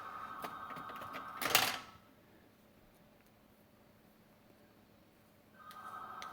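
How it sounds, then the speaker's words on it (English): A household telephone rings with a steady electronic tone at the start, then a sharp loud clatter cuts in. After a quiet stretch the ringing resumes near the end, moderately loud and not far off. "I think my wife is getting that phone for me."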